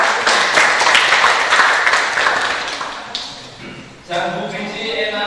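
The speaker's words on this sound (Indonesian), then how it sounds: "Oke, tepuk tangan untuk kita." An audience at a New Year church talk show claps in a burst of applause that fades over a few seconds, followed by a voice speaking over a quieter room.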